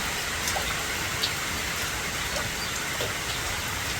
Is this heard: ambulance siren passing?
no